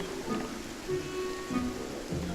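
Soft, steady rain patters in the video game Beyond Eyes, a faint continuous wash with gentle low swells and no talking.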